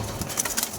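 Pigeons kept as breeders, including a grizzle, give a few short soft coos close by, with no talking over them.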